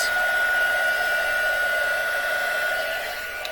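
Heat gun blowing steadily while heat embossing powder on a vellum card for a handmade thank-you card, a constant close airy whoosh with a high whine that holds throughout and eases slightly at the end.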